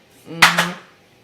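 Slippers clattering on a floor, two quick close knocks in succession, loud and brief, alone with no talk.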